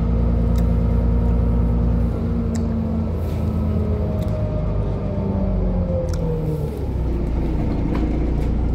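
Inside a moving, nearly empty bus, the engine rumbles low and constant, a loud steady drone with shifting tonal hums as the gears and speed change.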